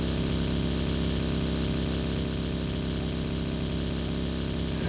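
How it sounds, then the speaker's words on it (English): Steady, droning buggy engine from PUBG Mobile during an esports match, running continuously and loud at an even pitch throughout. "Finally gets in the buggy"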